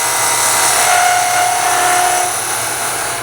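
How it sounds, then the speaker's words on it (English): A skew chisel takes a scraping cut on a wood lathe while turning a dovetail tenon, giving a loud, continuous, hissing scrape with a steady whine throughout. "I'm going to back to the skew chisel again, and that scraping cut"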